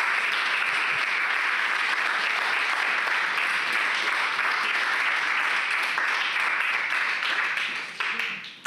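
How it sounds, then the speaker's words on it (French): Sustained audience applause fills a French award ceremony for a 2021 cancer-care innovation prize as a cheque is handed over, dense and steady for about eight seconds before tapering off at the end. "je vous laisse remettre le chèque sous les applaudissements nourris de notre auditoire"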